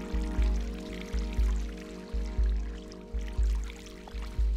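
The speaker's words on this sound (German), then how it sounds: "Ja, hier tropft's." Water drips in the video game Stray, a regular series of soft plops landing about every half second over a low, constant hum, with no talk.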